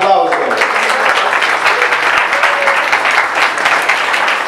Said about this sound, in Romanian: un mare, mare, mare de aplauze.